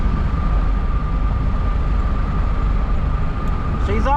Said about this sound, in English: I wish I could tell you the motor didn't sound like it was chattering as much